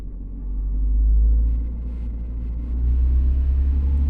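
Wuling Confero S car engine idling and gently revved, a deep steady rumble that swells, eases back, then rises again and holds, heard close with no talk.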